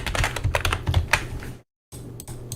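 Quick clicky typing on a computer keyboard, close and crisp in rapid bursts, a brief silent gap, then a few more light keystrokes.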